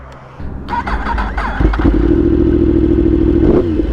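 A Yamaha R1 with a faulty throttle, an abused former track bike, clatters as it cranks, catches, and settles into a loud, steady, close-up engine run.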